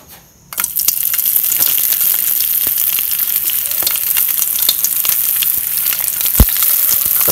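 Danggit, a dried fish, sizzles and spits in hot oil in a pan already used for frying eggs, a steady close crackle with scattered pops that starts abruptly after a brief quiet moment and runs unbroken to the end.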